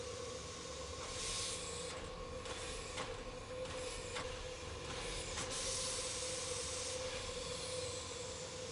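A train rolls steadily in the game Murder on the Orient Express, with a continuous rumbling clatter, hiss and a faint sustained wheel tone, moderately quiet and uninterrupted.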